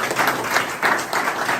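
Audience clapping at a political meeting on federalism, a steady patter of hands in short rhythmic swells, moderately loud and close, with no voices over it.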